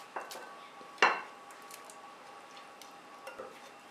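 Utensil stirring omelette egg mixture with fried vegetables, black pepper and coriander in a bowl, giving one loud clink near the start among faint scraping taps, with no talking.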